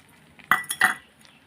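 A spoon scrapes and clinks against a pan while mustard seeds and onion are stirred in the tempering for a Tamil vallarai keerai kadaiyal, giving a few quick metallic taps close by.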